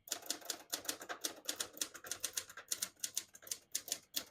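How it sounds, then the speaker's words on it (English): Keys strike steadily on a 1979 Hermes 3000 manual portable typewriter, a close, brisk run of sharp clacks with a few brief pauses and no voices. "that's what happens when you type on a manual typewriter."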